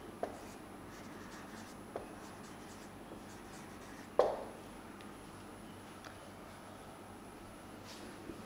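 Chalk or marker writing on a classroom board, a quiet room with a few sparse scratches and taps and one sharper knock midway, faint and spread over several seconds with no talking.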